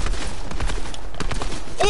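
Gunfire in a PS4 shooter game comes as a rapid string of sharp, loud cracks and thumps filling the whole moment, closely packed with no pauses.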